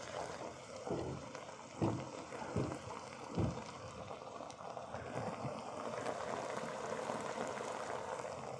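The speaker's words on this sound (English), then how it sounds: "that's been bubbling away there for about" Low, steady bubbling of beans simmering in a pot, with a few louder pops early on and a continuous gurgling wash throughout.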